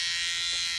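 Electric hair trimmer buzzing steadily close up as its corner cuts hair during a self haircut, a short continuous high-pitched hum alone.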